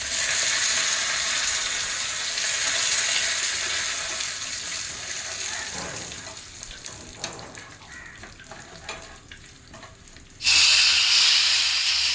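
Dried red chillies and chana dal sizzle in hot oil, a loud, steady crackling hiss that softens with occasional stirring clinks before flaring up again sharply near the end.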